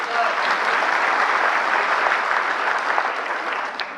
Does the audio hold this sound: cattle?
no